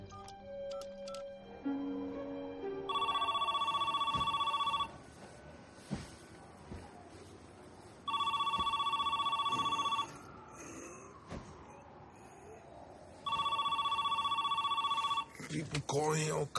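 A telephone rings out on a call in three long, loud, shrill bursts, each about two seconds long, spaced by quiet gaps, with brief speech and background sounds between the rings.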